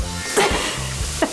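Taco meat sizzling steadily in a pan, a continuous close frying hiss with a couple of brief louder bursts as it is stirred, no voices.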